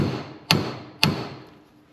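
Two sharp metal hammer whacks land about half a second apart as a kingpin top bearing race is driven into a Jeep Willys steering knuckle, each a crisp ringing strike over a quiet shop.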